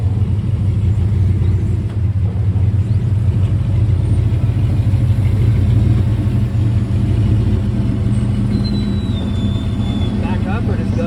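Off-road buggy driving on the Billings/Cut-Off trail toward Rock Junction, a loud, constant low engine rumble close by while people talk over it.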